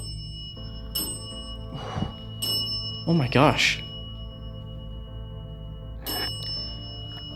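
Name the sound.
bell being tapped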